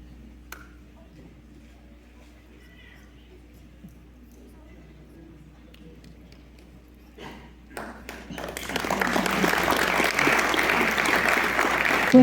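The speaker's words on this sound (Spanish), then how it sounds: "Fuerte el aplauso" At a community recognition ceremony for former leaders, a few scattered taps and claps build after a quiet stretch into full, loud applause from the gathered audience.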